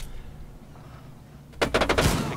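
Gunfire in Rainbow Six Siege, a short burst of rapid loud shots cracking out after a quiet moment.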